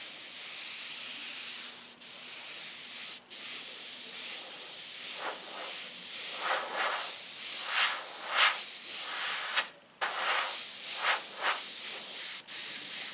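Airbrush hissing out a steady spray while painting simple flames onto a DIY copper hood, close and continuous with a few brief pauses and quick rhythmic pulses of the spray.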